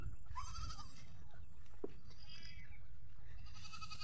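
Goats bleat in a village, one wavering call close by early on and others fainter, over a constant low outdoor hum.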